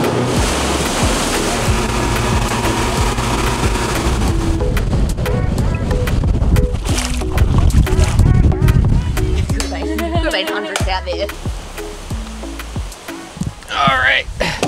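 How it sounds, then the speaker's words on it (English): A boat moves across the ocean, with water rushing and waves splashing against the hull over a steady engine rumble, while people talk nearby. "now we get on a boat"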